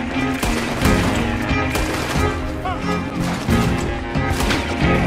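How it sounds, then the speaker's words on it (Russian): Gunfire in Red Dead Redemption 2, several sharp, loud shots cracking out in quick succession over a busy game soundscape, with someone talking between the blasts. "Ух, вот это выстрел хороший"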